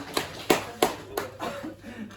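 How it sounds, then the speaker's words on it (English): A handful of sharp, separate claps from a stand-up comedy audience, fairly close, thinning out into quieter murmuring and room noise. "At least I get a clap."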